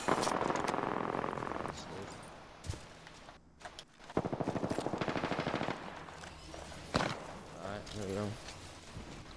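Rapid automatic gunfire from the Apex Legends video game, with bursts of machine-gun fire, single shots and a pause partway through, mixed with footsteps and voices talking.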